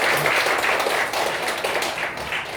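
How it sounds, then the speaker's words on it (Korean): Audience at a church debate forum applauding, a continuous wash of many hands clapping that tapers slightly toward the end, with no talk over it. "박수 부탁드립니다."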